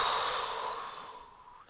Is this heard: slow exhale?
yes